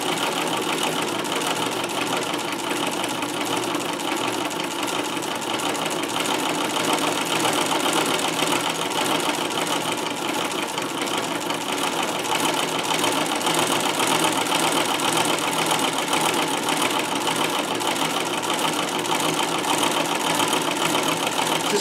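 A Davis vertical feed sewing machine runs steadily while stitching pin tucks, a continuous dense mechanical whir with a fast repetitive rhythm, close and fairly loud, with no pauses.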